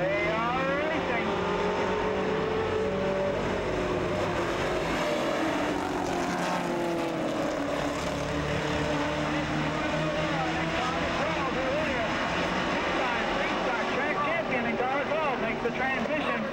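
Supermodified race cars racing on the half-mile oval at Toledo, a loud, continuous roar of several engines with rising and falling pitch sweeps as cars pass, under a commentator talking over the racket.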